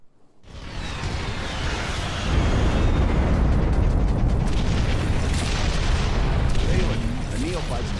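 Bomber strike explosions pound a hacked nexus in the real-time strategy game Ashes of the Singularity, a loud, sustained roar of overlapping booms and bursts that swells after a quiet start and rumbles on steadily.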